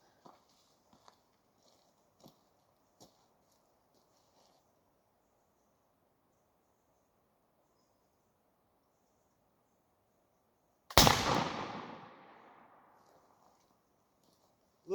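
Black powder muzzleloader firing after a slight ignition delay: faint cap clicks and ticks over quiet air, then one sudden loud blast with a long, fading rumble.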